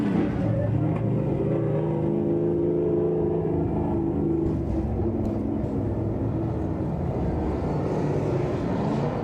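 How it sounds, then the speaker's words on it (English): Late model race cars at Claremont Motorsports Park roll out for a heat, a steady, loud engine rumble with low growling tones held throughout and no talk. "And heat 2 for the late models rolls out next."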